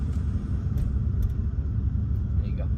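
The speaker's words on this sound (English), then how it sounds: "BMW 5 Series 3-litre diesel." A 3-litre diesel BMW 5 Series, high-mileage, idles with a steady low rumble on a quiet paved road, continuous and fairly loud throughout with faint higher noises above.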